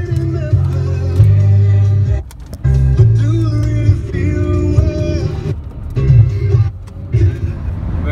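A steady low engine drone and road rumble fill the cabin of a van on the road, with a couple of brief dips and occasional bumps, and no talk.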